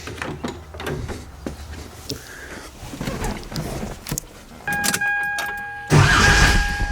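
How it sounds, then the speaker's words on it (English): An old car engine turns over on its starter with a rough, labouring crank for several seconds, then catches and runs with a sudden louder, steady roar close by. "All right, so I guess I'm going to crank this thing over like this."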